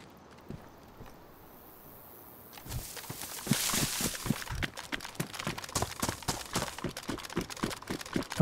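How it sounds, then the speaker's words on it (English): Footsteps in the DayZ video game inside a building, a quiet start giving way to a steady run of sharp, regular thuds that grow louder and closer. "Do you hear that footstep?"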